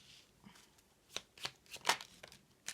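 Tarot cards shuffled and drawn in a quiet room, a string of soft flicks and riffles with a few sharper snaps, the loudest near the end, with no talking.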